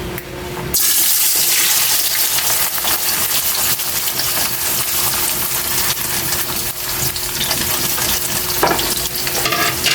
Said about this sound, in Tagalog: Lalagay na natin yung carrots at saka patatas.